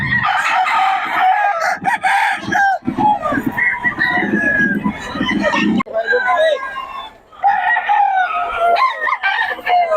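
Several fighting cocks crow loudly and repeatedly at a gamefowl sale in Bocaue, with overlapping calls and clucks close by and people talking in the background.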